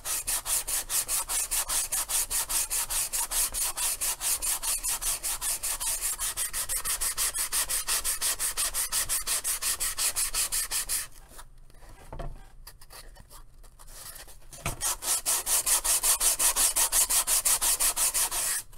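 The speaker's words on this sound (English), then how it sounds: "I'm gonna kind of get back to sanding here a little bit" A 3D printed space suit helmet is sanded by hand in fast, rhythmic rasping strokes that run continuously, pause briefly for a few seconds with a couple of soft knocks, then resume just as loud.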